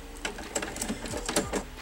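A sewing machine sews down a woven quilt block, giving a short, soft run of quick mechanical stitching with faint clicks.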